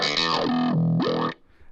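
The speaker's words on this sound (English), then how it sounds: "we go from a nice clean clavinet to something really, really crunchy" Casio Privia PX-560 clavinet run through wah and crunchy distortion, a short snarling phrase sweeping down then back up in tone before cutting off abruptly, close and loud.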